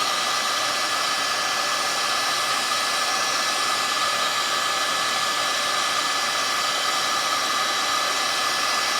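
A heat tool blows hot air steadily to melt solder while wiring a visor on a Peterbilt 359 truck, a continuous even rushing roar throughout with no pauses.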